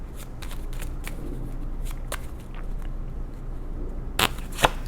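Tarot cards being shuffled by hand, a continuous close riffling crackle with a couple of sharper snaps near the end.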